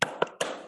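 A tepuk semangat clapping routine, heard as three sharp, close claps in a quick uneven rhythm within under a second, with no voices.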